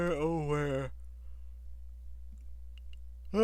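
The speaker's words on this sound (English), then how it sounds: "I'm yawning. At 12 in the afternoon. Why am I yawning like this?" A person yawns in a long, drawn-out voiced sigh with wavering pitch, close and loud, then breaks off into near silence with only faint clicks.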